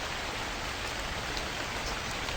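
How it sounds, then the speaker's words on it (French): Steady rain from the video game The Convenience Store, a continuous even hiss of falling drops with no talk over it. "Là on est sous la pluie, on se régale."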